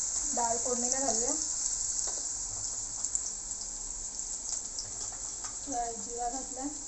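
Onion, garlic, green chilli and dal hiss steadily in hot oil in a pan for tempering, a continuous close sizzle running beneath a voice at the start and again near the end.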